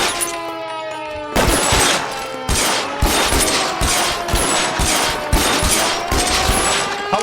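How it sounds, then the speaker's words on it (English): Heavy suppressing gunfire in the video game L.A. Noire, with a steady series of loud, evenly spaced shots and ringing echoes following a quieter opening, and no talking during the volley. "Suppressing fire!"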